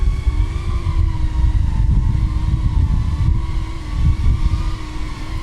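Flywoo Chasers 138 cinewhoop drone flying outdoors, a steady, loud whining buzz of small propellers with sustained tonal hum and slight surges, continuous throughout with no talking.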